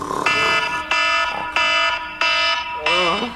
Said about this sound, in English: That's why I have an alarm clock.